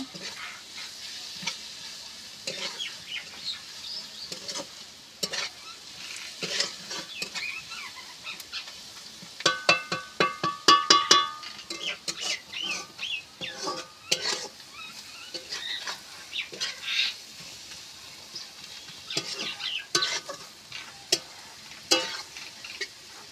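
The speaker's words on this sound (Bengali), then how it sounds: "এইভাবে নেড়ে চেড়ে আমি মশলাটা ভালোভাবে কষিয়ে নেব" Onions, chili and spices fry in a pan for egg curry, with a soft steady sizzle under repeated close scraping and stirring of a spatula, and a brief busier stretch midway.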